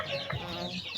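Chickens, including small newly hatched young birds, cluck at a poultry coop, a steady close murmur of short clucks with no talking over them.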